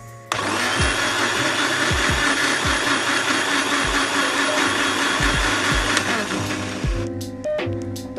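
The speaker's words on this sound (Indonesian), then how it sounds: "Lalu haluskan dengan blender." A blender loudly whirs, grinding a spice paste of sugar, ground nutmeg and a little water, its motor droning steadily with rhythmic knocks of ingredients before cutting off near the end.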